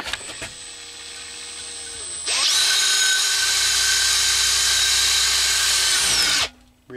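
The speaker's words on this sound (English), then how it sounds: "Really sharp drill." A very sharp drill bores holes for the bulkhead connectors of a homemade 4G antenna, revving up and then holding a loud, steady high whine close by for about four seconds before spinning down.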